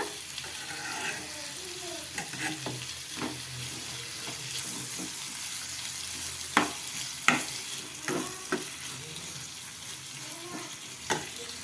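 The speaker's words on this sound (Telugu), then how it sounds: "కడిగి పెట్టుకున్న చికెన్ అయితే వేసేసుకోవాలి వేసుకొని మొత్తం మనకి ఇంకా ముక్కలకి బాగా కలిసేలాగా కలుపుకోవాలన్నమాట" Minced chicken fries with a soft, steady sizzle in a pan, broken by a series of sharp spatula scrapes and clacks as it is stirred, with faint talk in the background.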